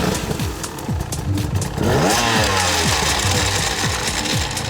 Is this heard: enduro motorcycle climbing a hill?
yes